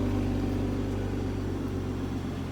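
A Toyota Supra sports car idles after a cold start, giving a steady, low, even engine hum with no revving, fairly close and unchanging.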